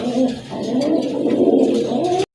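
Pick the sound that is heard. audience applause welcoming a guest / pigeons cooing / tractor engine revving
pigeons cooing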